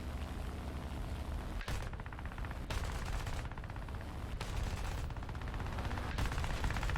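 Guns of a Bf 109-G14 fighter rattle in rapid sustained bursts at a B-17 bomber in a combat flight video game, loud and continuous with brief breaks between bursts over a steady engine roar.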